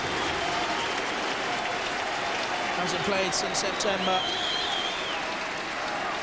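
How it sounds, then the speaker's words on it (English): Celtic fans, making up about half the crowd at Firhill, applaud a returning player in a steady wash of clapping that fills the stadium throughout, with a commentator talking over it. "given a warm reception by the Celtic fans who've made up virtually half the crowd here at Firhill tonight"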